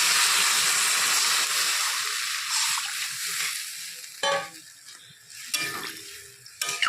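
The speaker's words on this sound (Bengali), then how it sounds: "ভেজে রাখা আলু পটল ঢেলে দিচ্ছি একটু নেড়ে চেড়ে" Fried potatoes and pointed gourd are stirred in a pan of hot spiced oil, a steady sizzle that fades, broken by a few sharp scraping stirs near the end.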